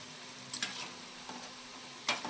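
Semolina gulab jamun fry in hot oil over low to medium heat, giving a quiet steady sizzle broken by a few brief louder crackles and stirring sounds, with no talking.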